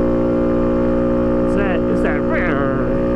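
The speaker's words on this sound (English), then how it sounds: "when I go to shift, it still sounds like the engine is kind of bogging down." A Honda Monkey motorcycle engine drones steadily up close, then its note wavers and sags in a few short dips as a gear change is made, with the engine bogging down briefly before settling.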